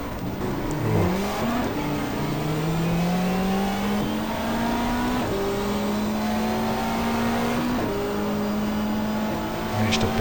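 Race car engines in the GTR2 racing game at Pukekohe, 1994 season, with a BMW and Opel in the field: loud, continuous engine drone rising in pitch through repeated gear shifts, with brief dips between upshifts.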